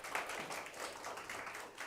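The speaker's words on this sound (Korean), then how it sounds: "수고했습니다. 박수 한번 쳐주시죠." Students applauding in a university electronics lecture hall, a brief soft patter of scattered hand claps heard from a distance.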